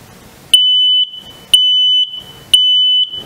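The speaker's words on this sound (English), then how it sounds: "So I'm just pushing the test button." A smoke alarm's test tone sounds three times, each a loud, piercing high beep lasting about half a second, separated by short gaps of silence.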